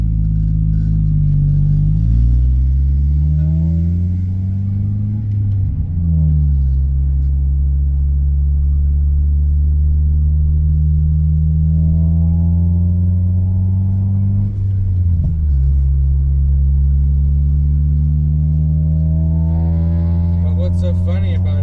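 A Honda-style VTEC car engine revs up and down under load, a loud steady rumbling drone whose pitch climbs and falls in several long sweeps, with some talk mixed in.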